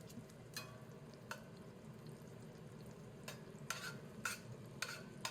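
Butter and garlic sizzling in a pan, a faint continuous frying hiss broken by a few sharp utensil taps and scrapes, quiet and unaccompanied.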